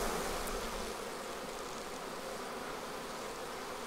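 Honey bees swarm around open hives in a beekeeper's apiary, producing a continuous, dense buzz that holds steady and fairly close throughout, with no voices.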